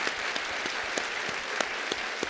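An audience applauding at a formal event, steady dense clapping from many hands with a few sharper individual claps standing out, moderately loud and continuous.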